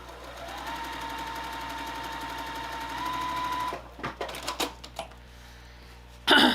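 A sewing machine stitches a Valentine's mini mystery quilt, a steady close whirring run for several seconds, then stopping with a few short clunks and taps.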